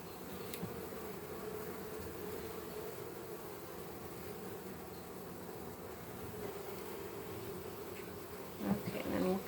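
Honeybee workers buzz steadily around a queen cage in a package installation, a continuous low drone with some faint handling noise near the end.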